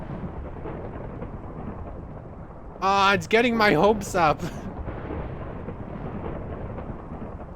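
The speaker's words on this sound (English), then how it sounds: "Does the whole thunderstorm and everything." Video game thunderstorm: a steady roar of rumbling thunder and rain-like noise, fairly loud throughout, with a voice briefly speaking over it partway through.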